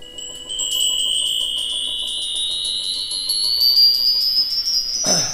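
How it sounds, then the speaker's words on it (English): Metallic chime tones from a set of wind chimes triggered remotely in a film composer's music studio, bright rising shimmering notes ringing steadily for several seconds with a brief louder rustle at the end. "you've got actual set of, you know, wind chimes, which he can trigger from down there"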